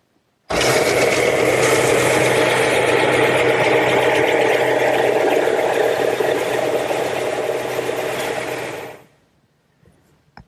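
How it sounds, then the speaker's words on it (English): A stationary belt sander runs steadily for about eight seconds as a wooden table part is held upright against the belt to taper it, a loud continuous grinding whir that cuts off and falls silent near the end. "But I'm going to use my stationary belt sander."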